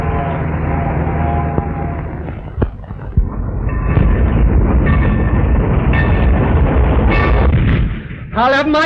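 An old steam train rumbles and clanks loudly on the rails near a railroad station, with a steady heavy roar and a couple of sharp knocks, and a whistle-like cry rising at the end.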